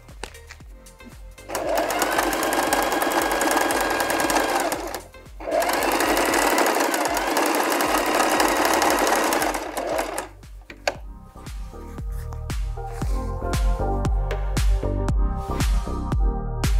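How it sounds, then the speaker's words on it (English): A sewing machine stitches a pocket onto a main fabric piece in two long, steady whirring runs separated by a brief stop, then softer mechanical clatter and handling noise, loud and close. "we can just sew along the, to join the pocket onto the main piece"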